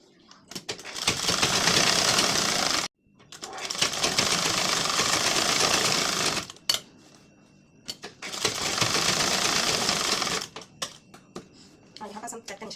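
A sewing machine stitches tucks on a blouse in three long, loud bursts of rapid whirring, separated by short pauses with faint clicks and handling sounds.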